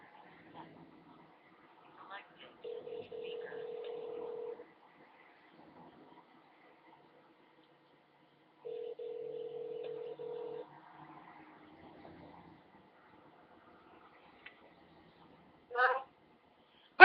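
Touch-tone telephone keypad being pressed to dial a number, two sustained steady tones and a short burst near the end, alone in an otherwise quiet room.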